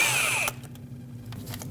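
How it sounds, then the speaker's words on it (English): A power tool with a 12mm socket whirs loudly while backing off a starter mounting nut on a 2006-2015 Lexus IS250 AWD, cutting out abruptly after half a second, followed by faint shop noise. "And with a 12mm socket, remove the mounting nut."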